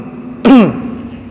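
A single throat clearing stands out clearly against a quiet room hum, one short harsh burst about half a second long that is close and fairly loud.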